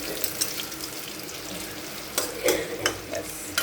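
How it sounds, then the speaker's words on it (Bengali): Banana-flower koftas frying in a pan, turned over to brown the other side: a soft, close sizzle with a few scraping stir sounds and small clatters, no voices. "আরেক পাশ আমি ভাজা করে নিচ্ছি আর একটু ভালো করে"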